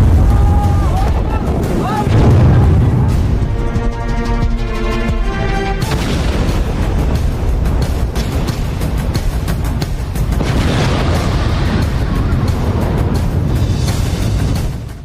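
A deep, rumbling explosion blowing up a ship at sea booms and roars continuously, loud and close, with crackling debris and a tonal hum mixed in, never fading to quiet.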